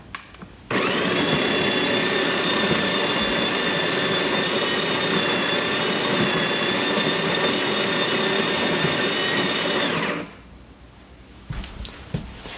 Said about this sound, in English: Now I'll put the portafilter into the grinder.